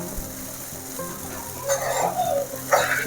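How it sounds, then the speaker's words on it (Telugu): Tamarind-leaf pulihora being stirred and mixed in a hot pan on the stove, a quiet sizzle with scraping stirring strokes that grow louder toward the end, no talk. "అంతా కలిపేసుకొని స్టవ్ ఆఫ్ చేసేసుకోవడమే"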